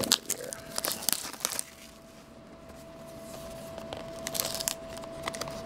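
A sticker being peeled off a basketball trading card box, heard as close crinkly tearing and crackling bursts, with a quieter pause in the middle before more scratchy peeling.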